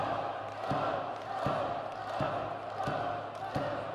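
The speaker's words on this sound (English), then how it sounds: "That chant by the Wenzhou crowd trying to urge the challenger" Wenzhou crowd at a wrestling event in China, a distant mass of voices chanting in a regular rhythm with repeated thumping beats roughly every three-quarters of a second, steady and moderately loud.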